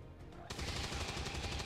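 In XCOM 2: War of the Chosen, a sudden loud gunshot bursts in after a quiet moment, followed by a sustained rattling crackle of gunfire.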